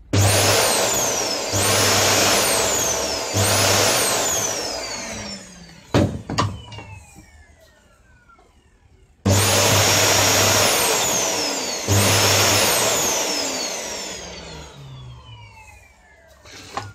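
A homemade cyclone dust collector motor started up repeatedly, each start a loud whooshing roar with a rising whine that then winds down, with quiet gaps between runs.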